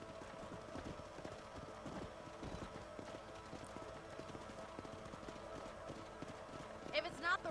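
Horse hooves clip-clop in a steady, regular rhythm while riding through a ranch in the video game Red Dead Redemption, continuous at moderate level, with a brief brighter burst near the end.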